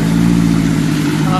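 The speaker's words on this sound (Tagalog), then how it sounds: "Grabe yung makina niya, oh." A Toyota Corolla engine suffering throttle delay, vibration, low power and blow-by runs roughly, a loud steady low hum with a shaky, uneven pulse, recorded up close.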